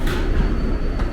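A Queens-bound New York City 7 local subway train running, a steady loud rumble of wheels and rails heard from inside the car.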